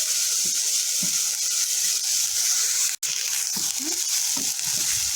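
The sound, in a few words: spices frying with garlic and ginger paste for chicken curry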